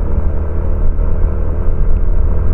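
Steady loud low engine rumble from a motor vehicle held at higher RPM, close and continuous with no other sounds.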